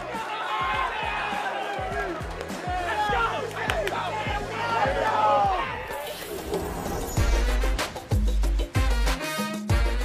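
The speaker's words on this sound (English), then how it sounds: "That was the sound of a bunch of Panthers celebrating" Carolina Panthers players celebrating in a locker room after a game, a loud crowd of overlapping shouts and cheers with sharp bangs and thumps, rising into heavier pounding and hits toward the end.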